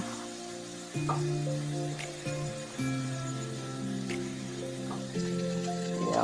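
Ginger and garlic frying in a pan for a mushroom curry, a steady close sizzle with occasional stirring scrapes and faint tonal hums underneath, no talking.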